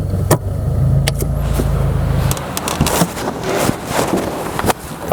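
A manual Subaru WRX fitted with a DARMATTERX shifter drives and turns around, its steady road and engine noise giving way to uneven rolling sounds with scattered clicks and knocks.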